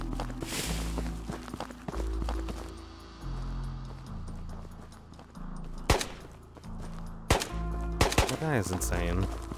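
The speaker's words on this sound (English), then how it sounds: "Just makes me nervous with all the gunshots that have been going on" Gunfire crackles through a Ghosts of Tabor raid in VR, several sharp distant and nearer shots punctuating hurried footsteps and movement noise, with a few louder cracks toward the end.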